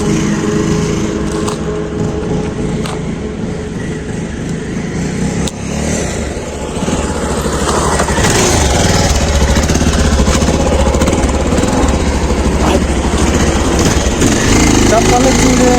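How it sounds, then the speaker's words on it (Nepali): A motorbike engine, just taken out after many days, runs steadily close by with a constant rumbling drone that swells slightly louder in the second half, a voice speaking over it. "बाइक चाहिँ धेरै दिनपछि आज झिकेको बाइक।"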